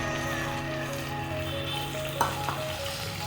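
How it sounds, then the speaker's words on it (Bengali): Onion paste fries in hot oil in a pan, a steady close sizzle with a couple of brief clinks from stirring, no talking. "এটাকে সোনালি রং হওয়া অবধি ভেজে নেব"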